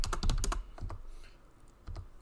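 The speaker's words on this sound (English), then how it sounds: "See how like 2-finger typing" Two-finger typing on a computer keyboard, a fast cluster of close key taps followed by a few scattered, slower presses with short pauses between them.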